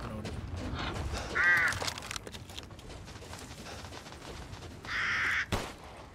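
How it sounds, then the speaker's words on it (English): Crows caw in the Resident Evil Village video game, two distinct caws about three seconds apart, heard faintly over a steady game ambience with some clatter. "Oh yeah, I forgot you can shoot the crows."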